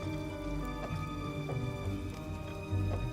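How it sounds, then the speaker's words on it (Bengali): Steady rain pours through a stormy night in rural Bengal, a dense continuous patter with a few louder drops standing out, no voices. "কাকা, বৃষ্টিটা তো কমারই নামই নিচ্ছে না, আরো বাড়বে নাকি?"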